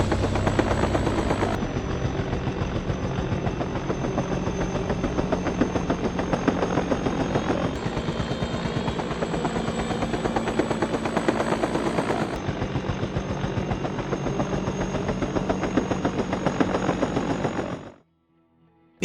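A helicopter used for hunting wild boar drones steadily overhead, its rotor chopping in a fast, even pulse with a constant engine whine, loud and unbroken until it cuts off.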